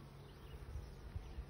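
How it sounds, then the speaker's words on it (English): A large drone honeybee buzzes near a hive frame in an apple orchard setting, a low steady hum with a few louder swells close by, no talk. "So there's a big old drone right here,"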